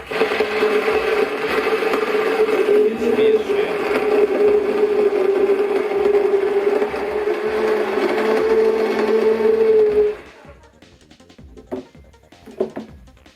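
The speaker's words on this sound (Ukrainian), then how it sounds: "Беремо звичайний побутовий блендер кухонний." A household kitchen blender grinding propolis whirs loudly and steadily for about ten seconds, then cuts off, leaving a few faint clinks and knocks.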